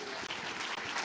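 A church congregation applauding during a service, a brief dense burst of steady clapping from many people, fairly loud and heard alone.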